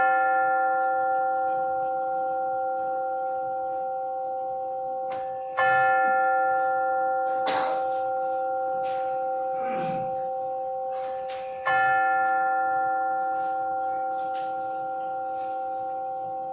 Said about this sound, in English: with the ringing of the chimes